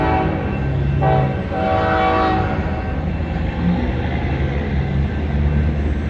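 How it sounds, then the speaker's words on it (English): A BNSF train rumbles close by at Dalhart, Texas, with a loud, sustained horn blast sounding over steady rail noise. "We got a train coming."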